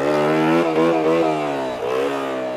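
A small, lightweight motorcycle revs up and down in quick, close blips, the engine note climbing and dropping several times as the rider works on wheelies.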